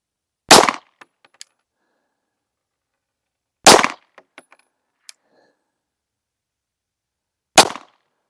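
Pistol shots from a full-size Glock 48 fitted with a dovetail-mounted optic, fired at a range: three sharp, loud single reports spaced a few seconds apart, the middle one followed by faint clinks, with no talking.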